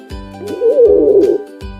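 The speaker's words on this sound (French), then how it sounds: "Les pigeons roucoulent sur le toit." Pigeons on a farm rooftop give a single soft, throaty rolling coo, close and clear, between thumps of a rhythmic musical beat.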